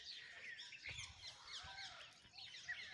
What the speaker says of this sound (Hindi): ये बोलने लगी चिड़िया तो अभी आ जाएगी।